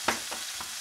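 Red berries (cranberries) dropped into a hot pan for a roast venison sauce sizzle and get stirred. There is a brief burst of frying with a sharp onset and two softer scraping pulses after it, close and fairly loud.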